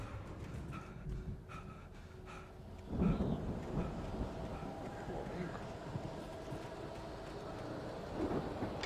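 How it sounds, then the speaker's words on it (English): Thunderstorm in the video game Alan Wake: a deep rumbling roll of thunder swells after a quieter stretch of rain and wind, then lingers as a heavy, continuous low rumble with steady rain beneath. "Storm raged on as the Anderson brothers walked unsteadily away from the clinic"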